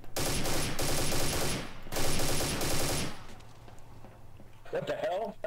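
Video game gunfire in Garry's Mod Trouble in Terrorist Town: two loud bursts of rapid automatic shots, close and dense, followed by quieter fading echoes, with a player talking near the end.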